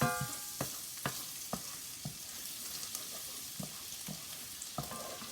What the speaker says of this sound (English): So I'm going to add our garlic here to our pan to get ready for our shrimp dish.